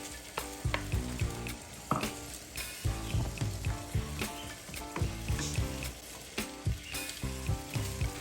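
Chopped cactus and garlic fry in a pan, with a steady sizzle and crackle broken by repeated clacks and scrapes of stirring, loud and close throughout.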